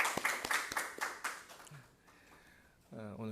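A church congregation gives a short burst of sharp, distinct claps to welcome visiting guests, several close handclaps that quickly die away, followed by a voice speaking.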